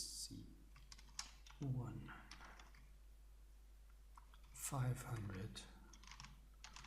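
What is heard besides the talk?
typing on a computer keyboard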